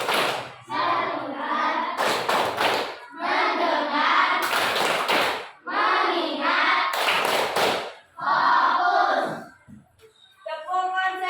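A classroom group chants in unison in short rhythmic phrases, and loud bursts of clapping come between the phrases at a few points.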